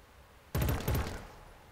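Burst of gunfire from the shooter video game Killzone Shadow Fall, two loud rapid volleys close together in quick succession, then a short fading tail, with no talk over it.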